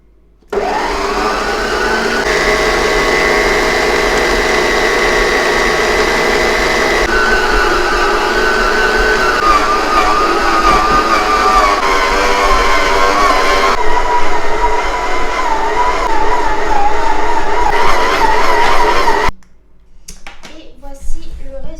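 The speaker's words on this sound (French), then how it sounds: "Donc c'est parti pour battre pendant 10 minutes à vitesse 3." Stand mixer beating bread dough at speed 3, a loud continuous motor whine that shifts pitch as the dough works, ending abruptly with quieter kitchen sounds after.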